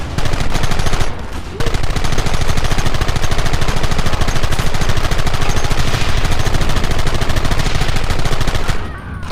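Sustained rapid gunfire in the video game Red Dead Redemption, loud continuous volleys of overlapping shots that run almost unbroken for about nine seconds after a brief gap near the start.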